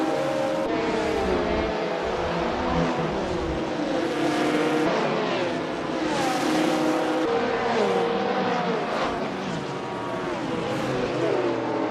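Matra race cars chase a Porsche through a racing game set at Thomson Road in 1972, engines howling and shifting pitch continuously as they rev, accelerate and pass, loud and steady throughout with no speech.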